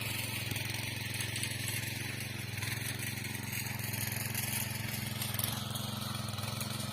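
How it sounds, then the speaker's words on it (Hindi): A small tractor tilling hillside terraced fields runs as a steady, buzzing engine drone with a rattling, knocking rhythm, close and continuous throughout. "ये छोटा ट्रैक्टर जो है, इससे ही काम ग्रामीण परिवेश में हमारे क्षेत्र में किया जा रहा है"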